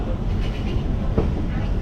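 A local train from Bardhaman to Asansol pulls away on a foggy morning, a steady low rolling rumble and hiss that holds evenly throughout, close by and fairly loud.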